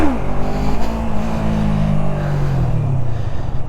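A Yamaha MT03 motorcycle engine on heavy throttle during wheelie practice, a loud close roar that revs up and holds a droning pitch against wind rumble.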